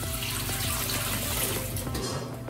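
Water poured from a container into a thirsty potted plant, a close, steady splashing stream that continues without break for a couple of seconds.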